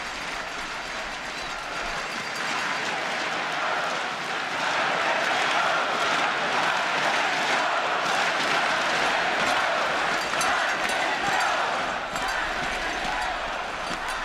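A crowd at the 2000 Republican National Convention cheers and shouts steadily, a broad, sustained roar of many voices that holds at an even level for the whole stretch, with no single speaker standing out.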